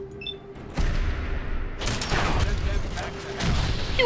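Gunfire in Fallout 4: a loud, continuous volley of shots and blasts with crackling impacts and a low rumble, heavy and close, alongside a faint tone and scattered mechanical clatter.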